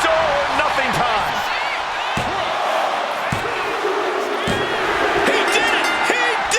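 A crowd cheers at a wrestling match in WWE 2K26 on PlayStation 5 Slim: a steady loud roar with whoops and occasional impact thuds, voices mixed in throughout.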